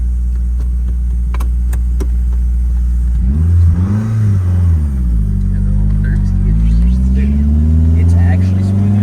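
A Saab 900 converted to a manual gearbox drives off and accelerates, its engine note rising in loud, close, revving sweeps. Voices from inside the car can be heard under the engine.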